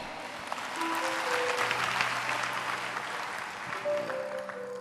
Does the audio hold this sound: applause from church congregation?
yes